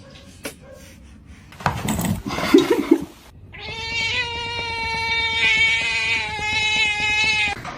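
A cat lets out a long, drawn-out meow that starts midway and holds loud and close for several seconds, after some brief clattering and knocking sounds.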